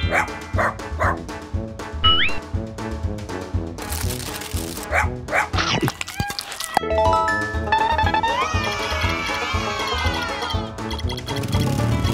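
A small toy dog yips and barks in short bursts among squeaky electronic chimes and jingles, with playful tones rising near the end.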